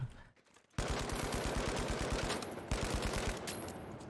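Rapid automatic gunfire from a gun in the shooter game The Finals rattles off in a fast, steady stream of loud shots after a short quiet start, with a brief break before the burst resumes.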